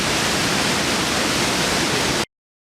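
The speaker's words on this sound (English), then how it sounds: "this is waterfall number 2, which looks remarkably similar to waterfall number 1, but it's a bit closer." A waterfall in Costa Rica roars as a dense, steady broadband rush of falling water, loud and close, holding constant before stopping abruptly.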